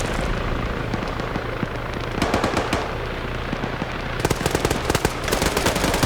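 Rapid bursts of automatic gunfire in a competitive tactical shooter match, sharp cracking volleys clustering mid-way and again toward the end over a steady low ambient rumble, no voices.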